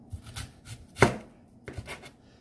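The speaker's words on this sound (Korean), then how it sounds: "잘게 썰어서 양파 링을 만들어 주시면 되겠습니다" A knife chops an onion into rings on a board, a few sharp separate cuts with one loud strike in the middle and quieter taps around it, close and without talk.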